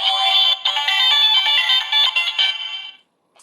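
A Kyuranger DX Kyu The Weapon toy powers on with a loud, bright electronic warble of buzzing tones for about three seconds, then cuts off abruptly.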